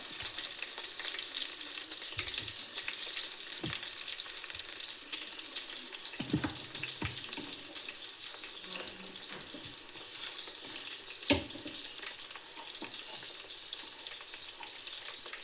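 Cauliflower florets (gobi) fry in oil, filling the space with a steady, soft crackling sizzle, with a few faint clinks and knocks, and no one talking.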